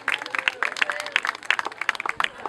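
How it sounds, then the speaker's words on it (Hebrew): Wedding guests clapping together, a short burst of dense, fairly close applause with a voice or two mixed in. "כפיים"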